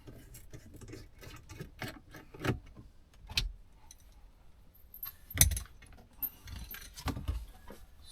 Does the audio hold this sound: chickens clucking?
no